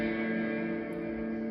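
A guitar reverb pedal rings out a sustained, washed chord with long, steady decay that hangs evenly and quietly throughout, with no voices.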